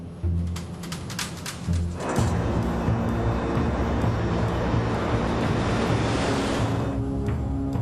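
Steady, loud roar of an airliner on approach to land at a small single-runway airport, continuous broadband rumble with a whooshing swell partway through.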